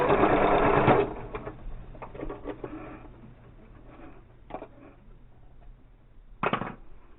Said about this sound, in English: You want to do about 1/8 of an inch top stitching across the bottom of your piece.